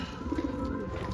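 Pigeons cooing inside a loft, soft low throaty coos close by over a steady background hum.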